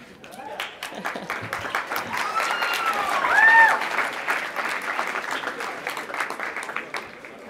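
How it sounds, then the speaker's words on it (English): An audience at a live talk at a Young America's Foundation event bursts into sustained applause, dense clapping that swells to a peak midway and continues steadily, with occasional cheers and voices mixed in. "let's get another round of applause"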